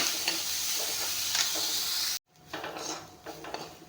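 Oil sizzling in a pan while ingredients for an egg chop are stirred and fried, a loud continuous hiss that cuts out abruptly midway, followed by quieter stirring scrapes and sizzle.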